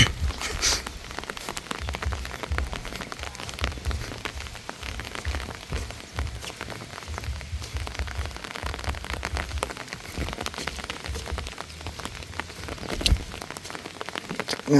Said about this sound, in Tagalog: Maulan-ulan nga lang.